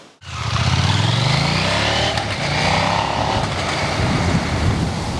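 A 2024 Husqvarna Svartpilen 801 motorcycle on the road, engine note rising under acceleration then dipping briefly through a smooth gear change before pulling again, loud and close with heavy wind rush throughout.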